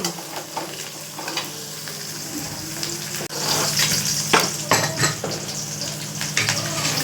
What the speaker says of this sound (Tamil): கருவேப்பிலை போட்டுக்கோங்க நல்லா வதங்கிட்டு